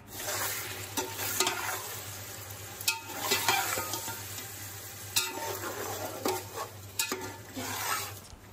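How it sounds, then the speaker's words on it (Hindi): Chicken browning in a pot for a chana chicken pulao, a steady sizzle with repeated scraping and stirring clatters of a spoon against the pot, close and fairly quiet, no talk. "अभी हम इसमें चिकन डालकर कुछ देर के लिए सबसे पहले चिकन को भूलें भूनेंगे"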